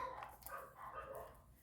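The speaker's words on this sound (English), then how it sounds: "while the dogs are barking" Dogs barking faintly in the distance, muffled and low in level, a few overlapping yips.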